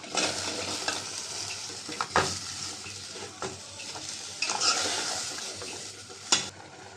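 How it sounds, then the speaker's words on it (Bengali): Chili, turmeric and coriander powders with salt, vegetable stalks and potatoes sizzle in a pan for a shrimp curry, a steady close fry broken by sharp scrapes and clanks of stirring. "মশলা কষাবার জন্য দিয়ে দিলাম মরিচের গুঁড়া হলুদের গুঁড়া ধনিয়ার গুঁড়া লবণ ডাটা আর আলু দিয়ে দিলাম কষানির সাথে সিদ্ধ হবে"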